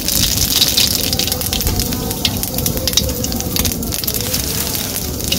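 Salted fish frying in hot oil in a heated kadai, a loud, continuous spattering sizzle with dense crackles throughout, close and unbroken.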